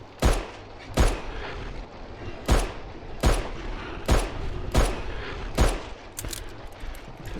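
Gunshots in the horror game Fobia, seven sharp loud shots fired at an uneven pace roughly a second apart, each with a brief echoing tail, over faint ambient background.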